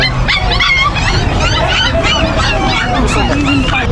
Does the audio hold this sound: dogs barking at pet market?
yes